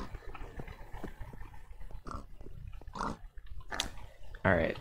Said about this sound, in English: the pigs really like me, don't they?